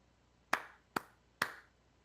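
Three sharp, separate claps from participants in a live online episode, evenly spaced and close, each with a short ringing decay, no talk.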